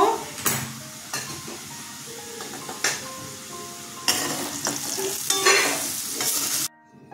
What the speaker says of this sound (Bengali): শুকনো লঙ্কা, জিরা, তেজপাতা ফোড়ন দিয়ে দিলাম।